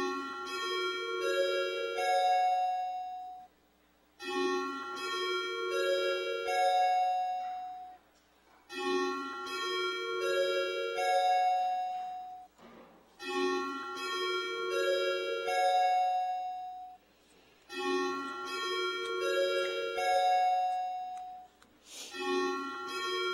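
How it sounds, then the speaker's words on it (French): Electronic bells in a municipal council chamber ring to call a roll-call vote: a repeating descending chime pattern, played about five times in a row with short gaps, clear and moderately loud with no talk over it. "on va faire sonner les cloches, ouvrir les portes."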